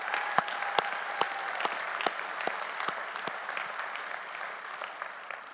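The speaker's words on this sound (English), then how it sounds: "Let's give them a round of applause," A university commencement crowd applauds honored students in a large hall, with steady, fairly faint clapping and a few sharp individual claps standing out.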